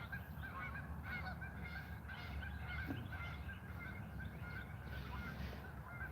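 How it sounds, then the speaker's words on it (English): Canada geese honk repeatedly in a steady chorus, paired birds calling loudly and squabbling, with constant low background rumble throughout and no talking. "all the Canada geese are paired off, laying their eggs up on the sides, and they're extremely vocal and fighting each other"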